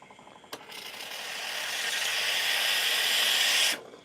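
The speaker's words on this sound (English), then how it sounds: "let's steam some milk, guys" A Maxim's La Seine X espresso machine's steam wand hisses steadily into milk after a sharp click, building into a loud, even rush of steam for about three seconds before cutting off abruptly.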